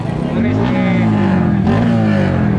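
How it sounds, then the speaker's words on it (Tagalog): A drag race car at a Mexico, Pampanga strip revs its cold engine to warm it up, the loud, close roar climbing and dipping in pitch through repeated throttle blips. "Pinainit muna niya. Ibig sabihin, malamig yung makina."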